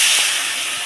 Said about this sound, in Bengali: এখন মাছটা যে উঠিয়ে নিচ্ছি, তারপর আর যে কটা মাছ আছে সেইগুলো একবারে ভেজে ফেলছি।